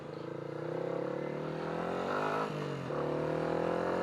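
A Honda CB125R or Yamaha MT125 125cc motorcycle engine running steadily, a close tonal drone that dips briefly in the middle and then holds again.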